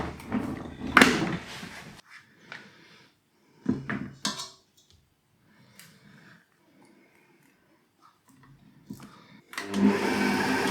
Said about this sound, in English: Now I'm mixing the cheese.